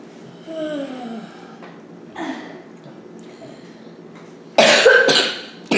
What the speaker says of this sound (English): Don't cough toward us.